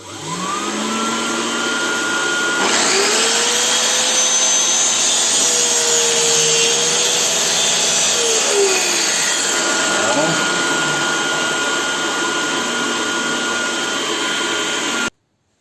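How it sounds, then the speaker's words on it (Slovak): A workshop vacuum cleaner hooked to a Parkside PTSS 1200 A1 plunge track saw drones steadily and loudly throughout, with a shifting whine partway through as the saw cuts. "Zapnem vysávač."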